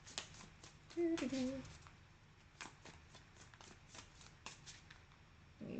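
Tarot cards being shuffled in a quiet room, a series of soft papery riffles and taps spread through the clip, close and fairly faint, with a brief louder handling sound early on and no voices.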